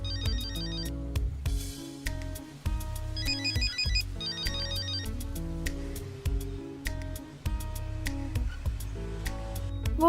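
A telephone's electronic ringtone plays its repeating melodic pattern over and over, steady and fairly loud, going unanswered with no one speaking.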